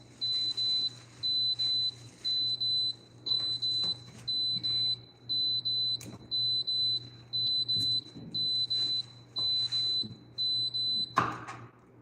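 An electronic alarm beeps in a regular repeating pattern of high-pitched pulses, fairly quiet against a low background hum, ending with a brief clatter.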